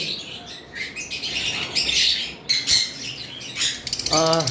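Fischer's lovebirds at a bird shop, including red-eyed and green opaline birds, chatter in a dense, continuous chorus of high chirps and squawks, with a louder, close harmonic call near the end.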